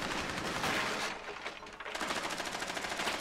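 Sustained automatic gunfire in Rainbow Six Siege rattles loud and close, a rapid string of shots with a brief lull before the firing resumes in quick, even bursts.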